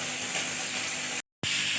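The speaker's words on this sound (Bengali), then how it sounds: "মাছগুলো ভেজে নিচ্ছি।" Fish fries in a pan with a close, steady steamy hiss and sizzle that briefly cuts out before resuming, with no voices.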